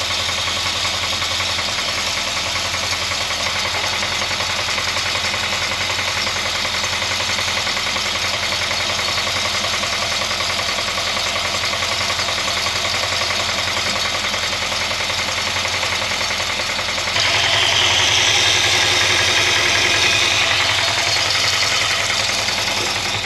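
A Mopar 440 V8 engine idling in a Jaguar MK10 after sitting abandoned for over 35 years, a steady rumbling idle with a slight rough pulse that grows louder and harsher near the end.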